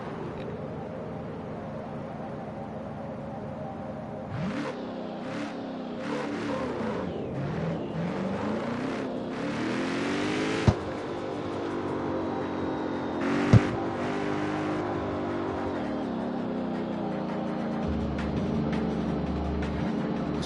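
A car engine in the racing game CarX Street revs and accelerates through repeated gear shifts, rising and falling in pitch over a steady droning motor bed, loud and continuous.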